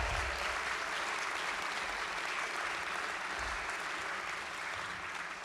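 An audience at a live storytelling event applauds steadily, a dense even wash of clapping that holds for several seconds without voices on top.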